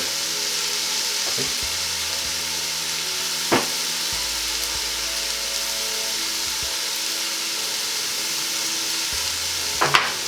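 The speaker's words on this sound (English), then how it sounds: "Just give that a quick stir again." Chopped leeks and potatoes sauté in oil in a pot for a vegan soup, a steady close sizzle broken by a few brief scraping stirs of a spoon.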